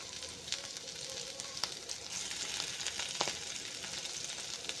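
Stuffed bitter gourds sizzle steadily in hot oil, a soft, even crackle with a few sharper pops, heard close and alone without voices.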